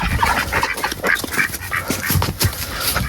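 Ducks in their enclosure on a small farm give a busy run of close, repeated quacks and chatter, with no one talking.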